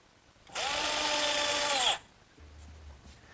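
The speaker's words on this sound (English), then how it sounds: "now we'll just secure everything in place using some 1¼ inch galvanized screws" Power drill driving 1¼ inch galvanized screws into wood while building a sandbox, one loud, close burst of about a second and a half that winds down, followed by quiet.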